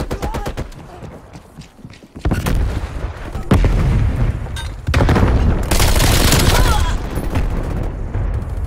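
Call of Duty Black Ops Cold War multiplayer gunfire: rapid bursts of shots and heavy booms, loud and dense, with a voice talking in between.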